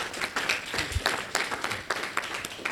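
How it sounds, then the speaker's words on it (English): A town hall meeting audience in Burlington County gives a round of applause, a faint, fairly thin patter of clapping with some individual sharp claps standing out and a few voices in the room. "let's give yourself a round of applause for being here today"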